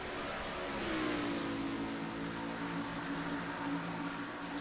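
Race car engines drone from a sim racing game at Canadian Tire, a steady mid-pitched whine that rises in pitch as one car accelerates, sitting fairly quiet and constant with no voices.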